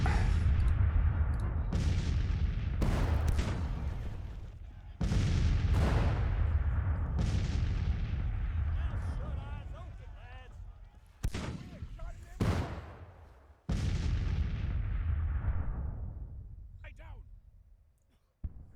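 Cannon and musket fire in the Civil War strategy game Grand Tactician, with repeated heavy booming blasts at irregular intervals, each rolling into a long decaying rumble, loud and close, with some overlapping distant reports.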